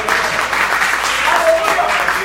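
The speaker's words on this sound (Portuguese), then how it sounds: "Pode aplaudir a Jesus" A church congregation applauds during a Portuguese-language sermon, a steady wash of clapping for a couple of seconds with voices mixed into it.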